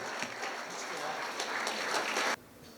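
Steady audience applause of many hands clapping at a university World Environment Day lecture, sustained for a couple of seconds before cutting off abruptly into quiet room tone.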